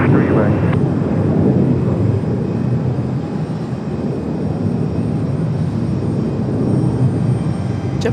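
A JetBlue airliner in JetBlue Vacations livery at Raleigh-Durham airport gives a loud, steady broadband engine roar that holds for the whole stretch, with radio chatter and voices faintly beneath it.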